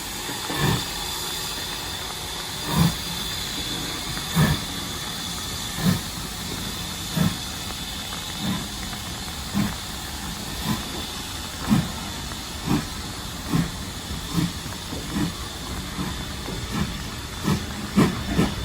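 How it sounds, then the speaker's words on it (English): Steam engine Braveheart hissing with a steady broadband rush, punctuated by regular loud exhaust chuffs roughly every second, close by with no talk. "This is the Braveheart steam engine"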